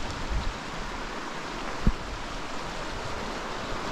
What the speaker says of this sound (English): This is just a little creek full of brook trout